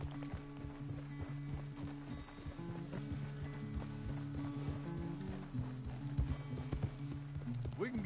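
Horse hooves clip-clop at a steady gait through Red Dead Redemption 2, with conversation running over the steps throughout.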